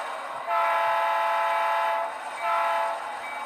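A model train run with DCC-EX control rolls past with a steady mechanical rumble and harmonic tones, swelling loud twice as cars pass close by.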